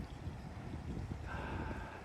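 Steady outdoor wind rushes and buffets the microphone throughout, with a faint whine rising in partway through.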